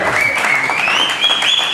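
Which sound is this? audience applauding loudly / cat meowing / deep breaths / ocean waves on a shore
audience applauding loudly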